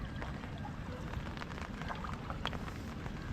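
Rain patters steadily on backwater around a crab-fishing country boat near Ernakulam, a dense even hiss of drops with no voices, continuous throughout.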